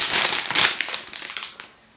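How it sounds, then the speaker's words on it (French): LED light strips being unpacked, with loud close crinkling and crumpling of plastic packaging, a dense rustle at first that thins into scattered crackles before fading. "donc nous allons déballer les LED"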